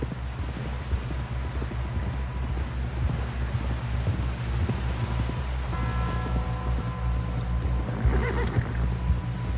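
A horse neighs and whinnies while hooves clip-clop steadily over wind and rustling in Red Dead Redemption 2, with a longer whinny near the end and no talking.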